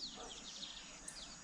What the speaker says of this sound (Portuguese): Esse silêncio que dá para ouvir os pássaros cantando.